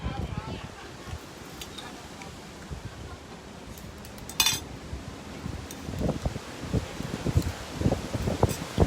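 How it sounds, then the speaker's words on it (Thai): Strong wind gusts buffet an outdoor microphone, rumbling and flapping in uneven bursts, with faint clinks and rustling in the background. "สียงลมนะเนี่ยเสียงลมนะลมแรงมาก"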